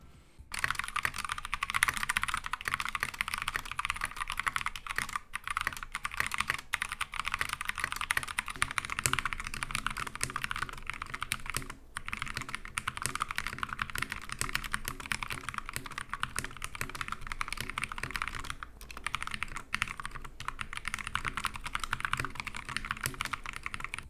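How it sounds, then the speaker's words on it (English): Steady, rapid clacking of keys on a modified Glorious GMMK TKL mechanical keyboard with lubed switches and clipped stabilizers, continuous and close, with no voices. "let's hear a comparison of a typing test with an unstock board versus one that's been modified"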